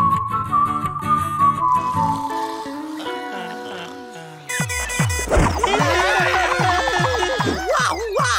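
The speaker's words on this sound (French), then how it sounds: "Que pensez-vous de ma nouvelle sirène d'alarme?" A cartoon alarm siren plays as warbling, whistle-like tones that rise and fall in repeated sweeps, loud and close, with a brief quieter dip midway before the wailing returns stronger.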